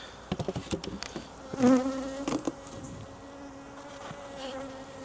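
Honey bees buzz at a hive entrance close by, a soft droning hum with individual bees flying past, alongside a few faint taps and handling knocks.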